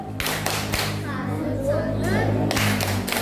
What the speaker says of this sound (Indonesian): Beri dia tepuk salut.